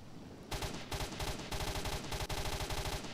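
Automatic gunfire from a new weapon in the video game S.T.A.L.K.E.R.: Shadow of Chernobyl, coming in several loud, sharp bursts of rapid shots that follow one another with short gaps.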